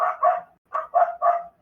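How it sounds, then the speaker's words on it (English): A dog barking at deer lets out five sharp, clear barks in two quick bursts, two then three, with a short pause between and nothing else around. "Yeah, she is just barking at deer."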